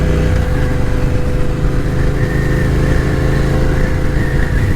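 A Yamaha MT-09 motorcycle engine drones steadily while riding, a loud continuous mid-range hum with wind rush and no pauses, no voices over it.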